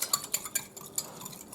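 A spoon stirring sugar into a sauce mixture for General Tso's chicken, a quick series of light clinks and scrapes against the container, close and fairly soft.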